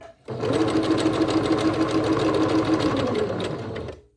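A sewing machine stitches elastic shirring in one loud, steady run of rapid needle strokes lasting nearly four seconds, starting and stopping cleanly with no talk.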